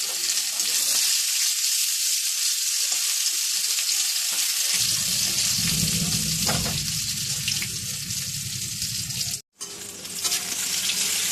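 Raw mango pieces hit hot spiced oil with a bright, continuous sizzle that swells as the fruit goes in, close and steady with a brief break near the end and no talking.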